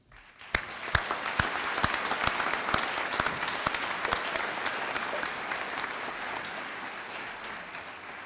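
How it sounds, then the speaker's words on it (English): A crowd at a high school graduation ceremony applauds the graduating class, dense clapping rising quickly, staying loud and sustained, then gradually thinning toward the end. "For this, we applaud you."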